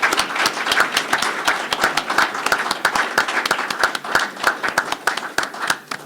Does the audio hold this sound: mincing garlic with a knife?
no